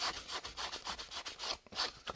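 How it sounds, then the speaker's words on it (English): A Dremel buffs the edges of a carbon fiber paddle holster, giving a steady close rubbing and grinding scrape that wavers in short strokes, with no talk. "So we're going to do a little bit of a buff"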